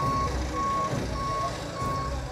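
A reversing truck beeps steadily at a zoo while a rhinoceros crate is unloaded. Evenly spaced electronic tones repeat about twice a second over a low engine rumble.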